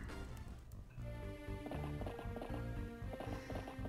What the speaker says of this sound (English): Whole group of horses coming on down.